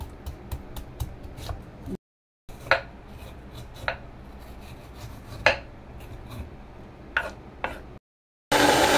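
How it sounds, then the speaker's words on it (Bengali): Raw green mango being grated by hand for a mashed relish, with repeated scraping rasps in uneven strokes, close by, broken by a couple of brief silent gaps and no voices. "আমার বোন অলরেডি আমটা গ্রেড করতেছে নিজের হাতে।"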